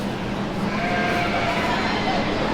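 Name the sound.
sheep bleating at a county fair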